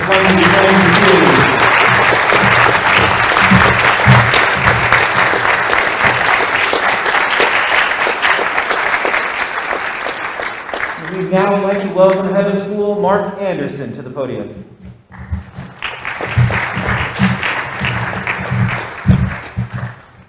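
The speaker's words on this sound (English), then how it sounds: "Folks, how about one more round of applause for the class of" Applause for a school class at an upper school first-day ceremony, a sustained crowd clapping that gives way to a speaker at the podium introducing the head of school.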